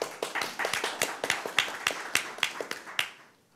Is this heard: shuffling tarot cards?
no